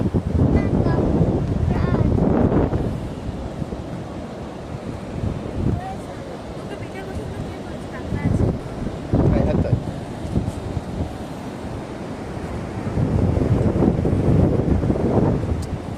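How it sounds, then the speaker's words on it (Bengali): Wind buffets the microphone at Mandarmoni beach while sea waves roll and surge in loud, swelling bursts, with voices talking intermittently over the steady roar. "এই দেখ সমুদ্র"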